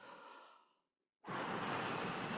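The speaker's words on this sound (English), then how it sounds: "We're gonna take a deep exhale," A deep breath rushes out during a breathing exercise for Parkinson's, a soft airy exhale that fades away, a brief silence, then a louder, close breath of air that continues steadily.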